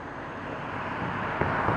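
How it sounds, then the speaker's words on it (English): A car passes some distance away, its faint, steady roadway rumble with wind swelling slightly toward the end. "Hold on, car."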